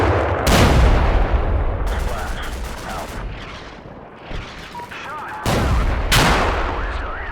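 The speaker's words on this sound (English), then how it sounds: "the next round of mortars are falling" Mortar rounds crash down in the Cold War tactical game Combat Mission Cold War, with loud booming impacts near the start and again past the middle, then rumbling explosive decay and scattered crackle in between.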